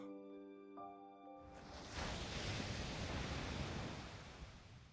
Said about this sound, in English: I hear the sound of the gushing water disappear.